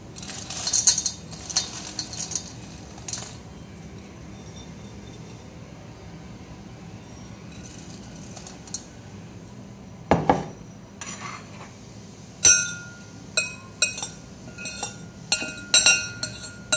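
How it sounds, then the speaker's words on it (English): A metal spoon clinks and scrapes against a pot while scooping out oven-baked potato slices, soft rustling at first, then a run of sharp, close chinks in quick succession. "Use your spoon to remove the slices."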